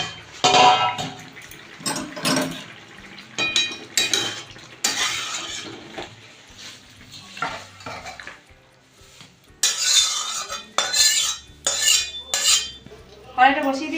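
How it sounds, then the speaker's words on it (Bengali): A metal lid comes off a pot of mixed vegetables that has been boiling for fifteen minutes, with sharp clanks and clatter of metal cookware in irregular bursts between quieter pauses, close by with no talking. "15 মিনিট হয়ে গেছে, আমি ঢাকাটা খুলে আমি নামিয়ে নেব।"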